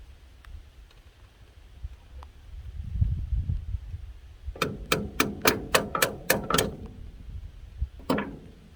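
Hammer taps on metal while removing the hydraulic pump from a 1965 Massey Ferguson tractor, about eight quick sharp strikes in a steady run, then one more after a short pause, close by.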